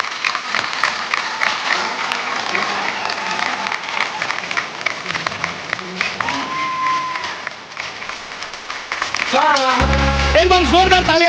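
Studio audience on a Hindi comedy talk show applauds and cheers as Bollywood stars Akshay Kumar and Sonakshi Sinha arrive, sustained clapping under a host's announcing voice, with music swelling louder near the end.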